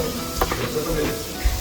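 Paneer fries in butter in a pan with a close, continuous sizzle and a couple of faint stirring scrapes over a brief moment.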